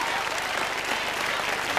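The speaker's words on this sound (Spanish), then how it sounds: "Un aplauso, Olga Ramos." A television studio audience applauds in a dense, steady burst of clapping that lasts the whole short moment.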